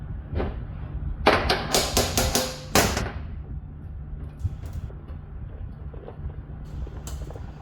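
A rapid run of sharp hammer blows from a worn panel beating hammer, used as a normal hammer at a workbench, rings out up close, then fades to a quiet room with a few faint knocks.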